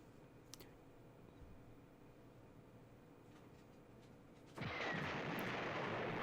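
In the Sonic the Fighters fighting game, a quiet stretch of low rumble gives way to a sudden loud burst of explosion noise that keeps roaring as a dense, sustained blast to the end.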